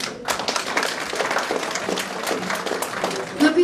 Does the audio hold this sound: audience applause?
yes